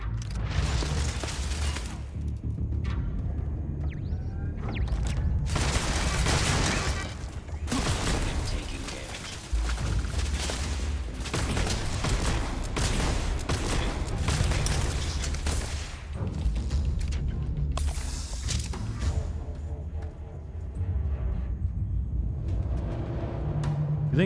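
Gunfire in the video game Starfield comes as heavy, dense bursts of booming shots and rumbling impacts, loud and near, in long sustained stretches broken by short pauses, with a little talking mixed in.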